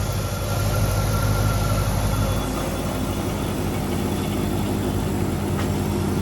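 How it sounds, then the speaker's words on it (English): A Dodge Charger SRT8 engine idles steadily with a low, even rumble and a faint mechanical hum, holding at the same level throughout. "let's go ahead and show y'all how it sounds from the engine"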